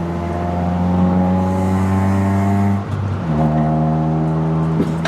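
Mitsubishi Eclipse second-generation car engine running rough while driving, a loud steady droning hum with a brief dip as the throttle lifts before it pulls again, heard from inside the car with no talking.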